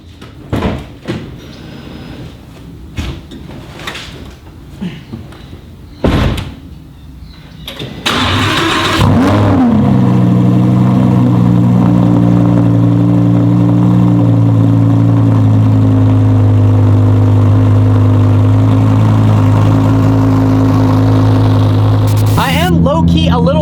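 A Lamborghini Huracan cold start: after door and cabin clunks, the engine cranks and catches with a loud exhaust flare, then settles into a steady, booming high idle close by until the end.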